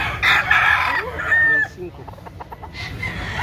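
A rooster crows, its long, bright call rising and holding before breaking off, followed by a softer stretch of clucking and murmured sounds close by.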